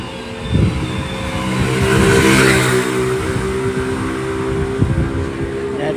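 A moped or motorcycle passes nearby outdoors on a summer night, its engine droning and swelling loudly mid-clip before easing off, with a brief bump near the end.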